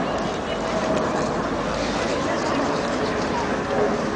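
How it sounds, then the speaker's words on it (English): Airbus A380 airliner flying past at around 200 knots over the Goodwood Festival of Speed, a broad, continuous roar filling the air throughout, with a commentator's voice speaking over it. "Not only is this the world's largest passenger aircraft, it's also the most technically advanced"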